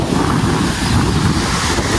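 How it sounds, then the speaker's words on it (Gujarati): Steady, powerful rush of water roaring without pause through a single open gate of Shamliya dam, with wind buffeting the microphone; no voices. "એક જ દરવાજો ખુલ્લો છે પણ પાણી બહુ જાય છે"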